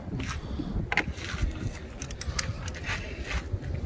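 Ratchet wrench tightening a 10mm bolt on the starter of a Lexus ES330, giving rapid repeated clicks in uneven bursts close by, with light metallic handling noise between strokes.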